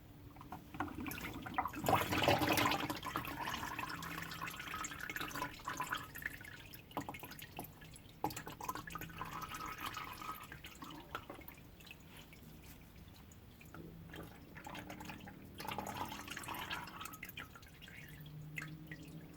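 Transmission fluid drains from a Toyota Sienta K210 CVT, giving a faint, continuous trickle with soft drips and a few workshop clatters.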